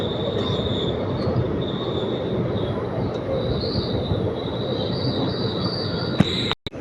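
A train rolls steadily into Coimbatore Junction as it slows on arrival, a loud continuous rumble of wheels on rail with a sustained high squeal from the wheels running throughout, cut off by a brief clatter at the end.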